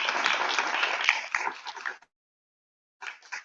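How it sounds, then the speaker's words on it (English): Applause from a seminar audience welcoming a guest of honour, a dense burst of clapping that thins out and stops, then a short second flurry after a pause of silence. "Please welcome Sir with a huge round of applause"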